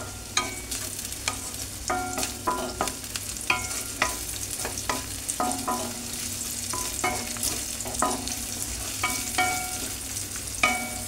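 Chopped onion and ginger fry in a hot pan, a steady sizzle broken by repeated scraping stirs of a spatula, close and moderately loud with no talking.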